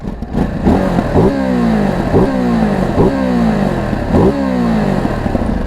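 A 2023 Ducati Desert X motorcycle engine with its stock exhaust revs repeatedly with the throttle, rising sharply then falling back in a rhythmic pattern, loud and close.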